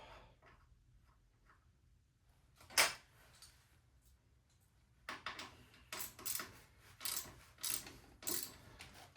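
Tightening a front fork part on a 1998 Kawasaki ZX11 motorcycle, quiet at first with one sharp metallic clink, then a run of close ratcheting clicks in short, irregular bursts.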